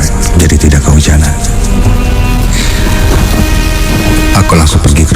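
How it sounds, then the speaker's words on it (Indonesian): Heavy rain pours down steadily in a dense, loud wash, with a low rumbling layer beneath and no voices heard. "Sampai di kampus, hujan mulai turun cukup deras."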